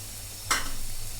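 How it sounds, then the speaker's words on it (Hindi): Onions and leftover masala hitting a hot pan for Sindhi seyal sabzi, a sudden close sizzle bursting in partway through, then a steady crackle of frying. "जो एक्स्ट्रा मसाला ये बचा हुआ है मेरा, ये मैं इसमें डाल दूंगी प्याज में"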